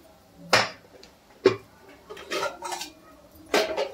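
A metal spoon stirs prawn and pea pulao in a cooking pot, giving sharp clanks and scraping knocks against the pot in a loose, uneven rhythm, close and clear with no talking.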